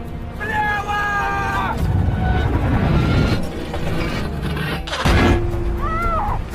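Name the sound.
gunfire shot at a T-34 tank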